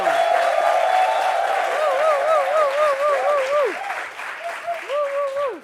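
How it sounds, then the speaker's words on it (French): French TV studio audience applauding and cheering a guest, dense sustained clapping throughout, with voices talking or exclaiming over it. "Ovation, ovation, ovation,"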